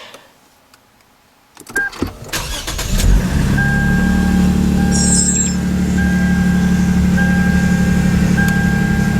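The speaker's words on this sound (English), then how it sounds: "Car starts up perfectly, sounds fantastic, idle is exceptionally smooth." A 2005–2015 Lexus IS250 engine, with new spark plugs, cranks and catches after a quiet pause, then settles into a steady, smooth idle with a constant low hum close by.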